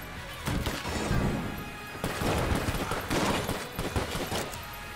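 Enemy gunfire in the bullet-hell shooter Enter the Gungeon, heard as bursts of rapid crackling shots and crashing impacts in several waves, fairly busy and mid-level with a game soundtrack underneath.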